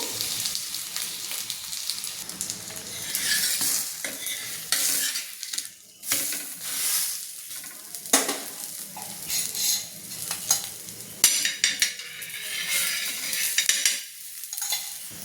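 Cucumber thalipeeth frying in a pan on low gas, a steady soft sizzle with scraping and stirring sounds from a utensil recurring throughout, close and moderately loud, no talk.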